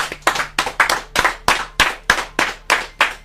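A crowd claps for diaspora fans in Canada, Nigerian states and Dubai, heard as about a dozen sharp, loud bursts of applause in a steady rhythm, close by, with no talk over them.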